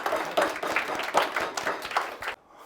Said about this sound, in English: give Tim your applause